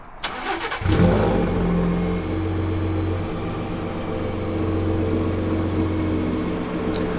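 Gen 3 Ford Raptor 3.5L with a valved AWE switch-path exhaust in quiet mode cranks and fires up, then settles into a steady, subdued low idle rumble, close by with no talk.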